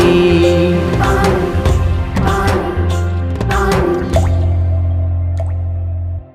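Water drips drop by drop, a series of close, distinct plops over a sustained musical tone, spaced irregularly before fading out.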